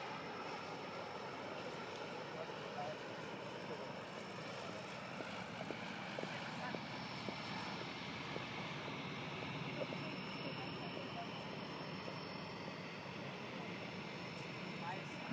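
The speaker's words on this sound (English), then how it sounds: "One more plane coming in and then we're going to get started." An airplane coming in to land, heard as a faint, steady engine drone from a distance that holds unchanged throughout.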